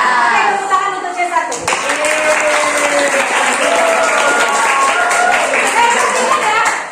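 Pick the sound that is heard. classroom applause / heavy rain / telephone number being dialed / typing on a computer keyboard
classroom applause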